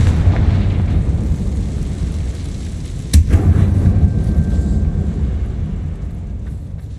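A Confringo fire spell explodes in Hogwarts Legacy: a sharp blast at about three seconds punches through a steady, rumbling game background, followed by a brief tonal ring as the din continues.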